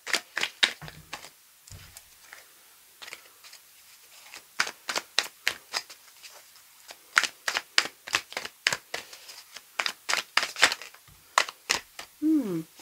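Tarot cards are cut and laid out one after another in a nine-card spread, giving a long run of crisp slaps and flicks with short pauses between them and a brief voice near the end.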